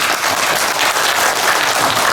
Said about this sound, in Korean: 인사한 박수 한번 받아보세요.